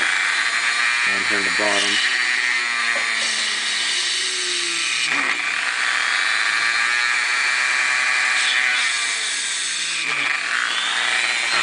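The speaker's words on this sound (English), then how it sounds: "we're going to have to use a little Dremel here" Small Dremel rotary tool punching a hole low down in a part, whining at a high pitch in several bursts that rise and fall as it bites, with someone speaking briefly over the start.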